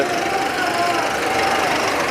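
Steady mid-pitched drone of many tractor engines running nearby, tractors with trolleys in a protest march in Patran, continuous and fairly loud, with a faint whine on top.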